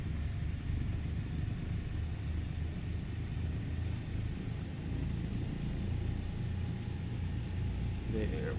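Douglas DC-3 radial engines held at 1000 RPM in MSFS 2020 give a steady, low droning rumble that runs unbroken throughout, with a voice talking over it.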